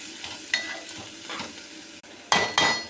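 Food fries in a pan while a spoon stirs it: a steady sizzle is broken by a few sharp scraping strokes against the metal, close and clear.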